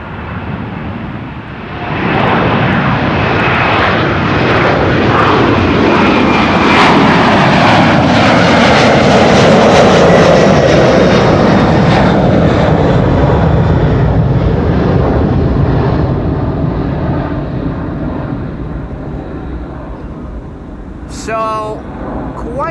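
A KLM Airbus A330-300 widebody jet departs Amsterdam Schiphol's runway 24, its engine roar rising quickly to a loud, sustained rumble that slowly fades as it climbs, with a brief clatter near the end.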